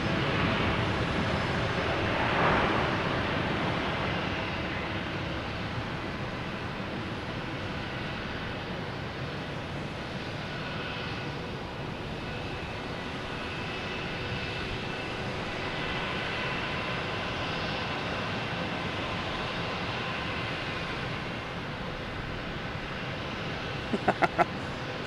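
A Delta airliner jet at Boston Logan Airport, its engines a steady broadband roar that holds loud and even for the whole stretch, with a few sharp clicks near the end.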